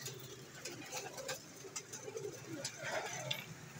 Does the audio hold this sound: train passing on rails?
no